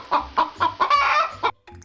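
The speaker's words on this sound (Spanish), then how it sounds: "Las gallinas cacarean o cloquean." Domestic chickens clucking in a run of short, loud, rhythmic bursts close to the microphone, with a brief quieter cluck trailing after a pause.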